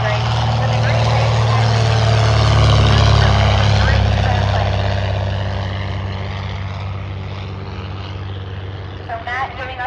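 Great Lakes biplane at an airshow at Old Rhinebeck, a loud propeller engine drone swelling as it passes close and then fading into the distance, with an announcer talking over it.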